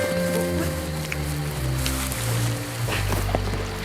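Steady rain falls in an outdoor scene, a constant hiss of drops with low rumbling underneath, no voices.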